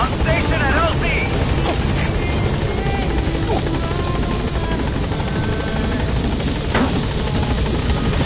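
Helicopter from the video game Metal Gear Solid V: The Phantom Pain arriving at a landing zone, a loud continuous rotor and engine drone running throughout, with radio-style voices talking over it.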